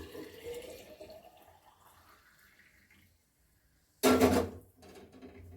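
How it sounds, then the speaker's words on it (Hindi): Water from a tap runs into a bottle with a gurgling tone that rises in pitch as it fills, then stops before a sudden louder splash and clatter. "इतनी बड़ी जल्दी कैसे भर रही बोतल?"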